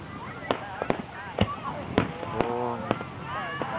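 Independence Day fireworks over Woodland Lake in San Antonio, with sharp bursts popping roughly every half second, some distance away. People talk and exclaim over the blasts.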